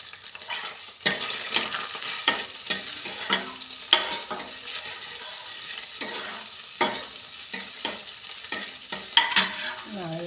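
Garlic and ginger fry in a pan for a cauliflower curry, a steady sizzle broken by repeated sharp scrapes and clinks of a spoon stirring against the pan, close and fairly loud with no talking.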